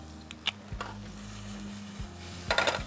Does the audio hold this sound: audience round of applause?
no